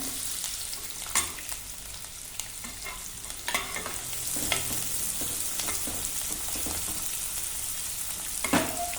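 Onions frying in a pan with cinnamon, cloves and garam masala for mushroom curry: a continuous loud sizzle with intermittent scraping and stirring clatter from a spatula, and no talking.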